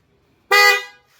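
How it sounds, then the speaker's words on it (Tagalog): A new aftermarket horn on an MSC Falcon V2 200cc ATV gives one short, loud, bright honk that fades quickly, close by, with no voices. "Oh, bagong busina, oh."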